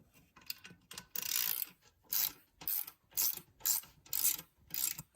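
A hand ratchet loosens bolts on the bumper of a Suzuki LTZ400 race quad, a series of about seven quick clicking bursts in an uneven rhythm, close and fairly quiet.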